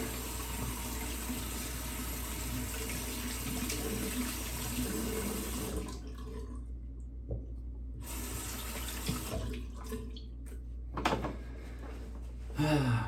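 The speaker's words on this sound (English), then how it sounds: "Let me rinse my brick off real quick." A shaving brush is rinsed under a running tap, a steady gush of water that stops partway, then brief splashes and a short final burst as the flow resumes.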